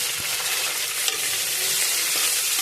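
Onions sauté in a pan with cumin, whole spices, ginger-garlic paste, green chillies and curry leaves for rajma, giving a loud, dense, continuous sizzle with a faint stirring scrape, no speech.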